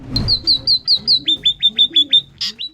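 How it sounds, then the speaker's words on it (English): A scaly-breasted munia gives a rapid series of high, thin chirping calls, about a dozen in even rhythm, close and clear. "The Scaly-Breasted Munia is a bird that makes sounds while occasionally wagging its tail and wings"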